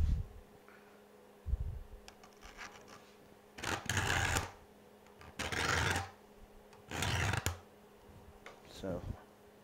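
A file is drawn across every other tooth of a hand saw during sharpening, producing four or five loud, rasping strokes of about a second each in a steady rhythm, close to the listener with quiet gaps between.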